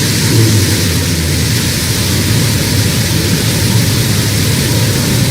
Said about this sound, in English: We have liftoff. New Shepard cleared the tower.